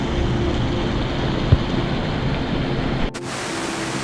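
A waterfall at the Anusuya Atri Muni ashram in Uttarakhand, behind the Amrit Dhara, gives off a constant, full rushing roar close by. A single dull knock sounds partway through and a brief dip comes near the end.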